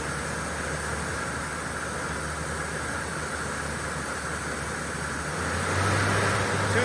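A 2007 Mori Seiki NL3000Y CNC turning center with its spindle running at 2,000 RPM gives a steady, close whirring drone with faint tonal whine, swelling slightly louder near the end.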